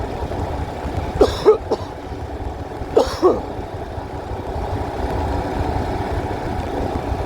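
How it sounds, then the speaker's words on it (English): A motorcycle rider on a Royal Enfield Himalayan coughs twice in close, sharp bursts over the steady rumble of the idling or cruising engine and wind. "I cough a lot when I'm talking"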